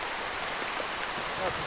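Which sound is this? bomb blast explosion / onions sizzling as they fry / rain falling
rain falling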